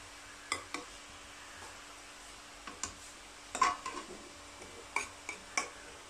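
Beetroot thoran, Kerala style, stirred in a pan with a spoon, giving scattered light ticks and scrapes against the metal, some close together, others spaced apart, fairly quiet with no talking.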